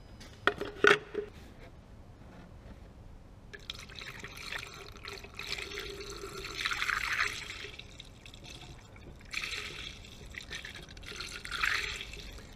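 Coolant is poured into the cooling system of a 2013 Renault Megane 1.5 dCi, giving a soft, continuous gurgle and splash of liquid in quiet surges after a few faint clinks.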